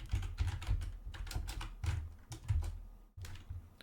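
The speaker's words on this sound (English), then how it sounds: "so I'm just gonna type in that plugin" Fingers type a plugin name on a computer keyboard: a close, quick run of uneven clicking keystrokes with brief pauses, alone in a quiet room.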